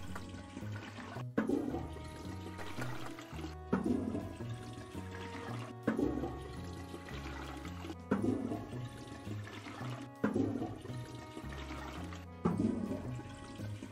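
A toilet flushes in the video game Toilet Flushing Simulator. Six rushing water flushes repeat at a regular rhythm, each starting with a sharp onset, with no talk.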